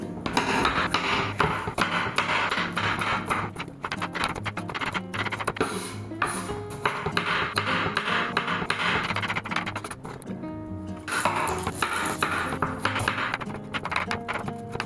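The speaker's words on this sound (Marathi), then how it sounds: "शिमला मिरची, टोमॅटो आणि कांदा कापून घेऊ।" Capsicum, tomato and onion are chopped on a board for bread pizza; quick rhythmic knife taps and scrapes repeat throughout over background music, with a brief lull partway through.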